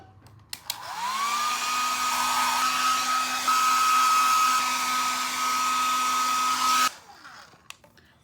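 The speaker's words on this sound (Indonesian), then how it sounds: "Oke, aku menggunakan hair dryer Philips." A Philips hair dryer runs steadily while drying hair, with a loud, continuous whirring blow that starts abruptly, holds with a fixed pitch for several seconds, then cuts off sharply.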